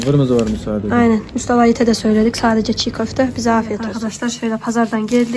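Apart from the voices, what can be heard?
None of the usual background noises is heard.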